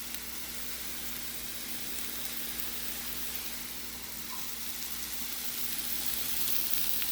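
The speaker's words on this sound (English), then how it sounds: "And I'm going to add some of the onion." Chopped onion sizzles and fries in a hot pan with Mexican chorizo, a steady close hiss and crackle running throughout with no talk.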